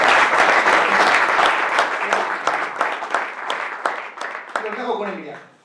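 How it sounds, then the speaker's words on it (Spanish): Sustained applause from a sizeable audience, loud and dense at first, then thinning into scattered claps as it fades out. "os pido un aplauso"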